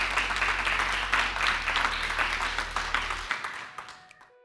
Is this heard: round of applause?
yes